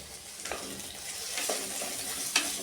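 Chopped tomatoes for dal khichdi frying and being stirred in a pan, a soft steady sizzle with a few scraping stirs of the spoon, close and fairly quiet, no talking.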